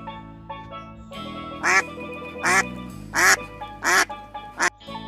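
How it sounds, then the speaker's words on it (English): A duck quacks in a series of loud, close, nasal calls coming in irregular bursts over a musical backing. "Duck."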